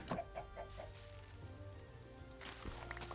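Minecraft chickens clucking on a deserted island in a hardcore game, a quick string of soft, faint clucks at the start and then sparse noises, with no talk.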